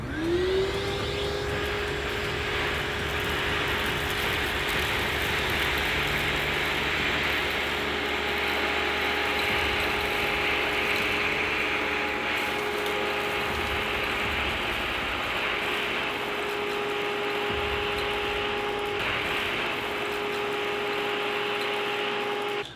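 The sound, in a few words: Tornado CV 30 vacuum with wand picking up rock salt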